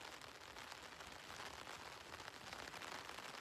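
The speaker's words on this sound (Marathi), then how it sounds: "तुम्ही चेक करा पाऊस किती आहे, मी तुम्हाला दाखवतोय." Heavy rain falls in a steady, dense hiss on a wet outdoor fishing spot, continuous and even throughout with no voices.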